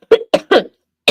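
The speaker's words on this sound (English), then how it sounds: "Like, I really did have a cough." Four sharp, close coughs from one person, three in quick succession and a fourth after a brief pause, loud and isolated with no talking.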